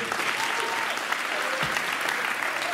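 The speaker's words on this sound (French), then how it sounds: "On peut vous applaudir très fort, s'il vous plaît." An audience at a live magic and comedy show claps steadily and evenly for a few seconds, a dense wash of applause with no break in it.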